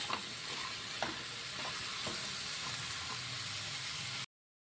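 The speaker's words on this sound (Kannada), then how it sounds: "ಇವಾಗ ಹಸಿ ವಾಸನೆ ಹೋಗೋ ತನಕ ಇದನ್ನು ಎಣ್ಣೆಯಲ್ಲಿ ಉರಿದಿದ್ದಾಗಿದೆ" Ingredients for a radish curry fry in hot oil with a steady close sizzle and occasional stirring scrapes, then cut off abruptly into silence.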